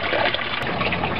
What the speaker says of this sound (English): The end result is that all of the water is poured out into the fish tank at quite a wonderful,